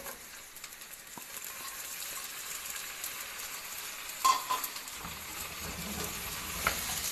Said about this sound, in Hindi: ये इस तरह से हम इसे फ्राई कर लेंगे।